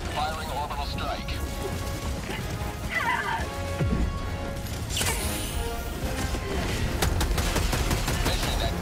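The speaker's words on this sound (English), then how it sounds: "Firing orbital strike." An orbital strike erupts in the sci-fi shooter Helldivers 2 amid a dense barrage of gunfire, with a heavy blast around the middle followed by rattling automatic fire and crashing debris.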